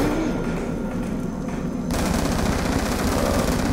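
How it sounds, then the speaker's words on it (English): A ray gun firing in Black Ops II Zombies, a dense continuous burst of rapid shots and blasts that grows louder midway, with game noise throughout. "That's the ray gun."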